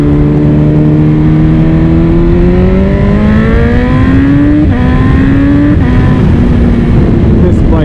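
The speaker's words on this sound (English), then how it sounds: "Let's get some crispy downshifts here for you." A BMW M1000RR motorcycle engine drones close and loud, its pitch climbing and then stepping down abruptly in shifts, with the roaring exhaust note steady throughout.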